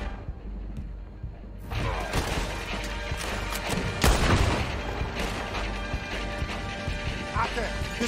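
Loud, chaotic action with booming blasts, cannon fire and bursts of gunfire in the video game Red Dead Redemption 2, crashes and rumble throughout, with voices shouting amid the din.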